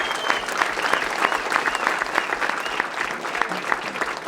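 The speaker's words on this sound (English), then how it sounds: "So everybody give her a round of applause." A hunting event crowd applauds a youth's first pheasant at a Kansas ringneck classic, steady enthusiastic clapping throughout with a faint voice underneath.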